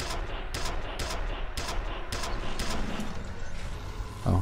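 A tesla cannon fires in the first-person shooter F.E.A.R.: Perseus Mandate, heard as a rapid series of sharp, crackling bursts at a steady rhythm, fairly loud over constant background noise.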